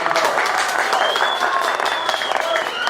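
Audience applause breaks out at a live talk show, loud and sustained, with scattered cheers and voices rising above the clapping.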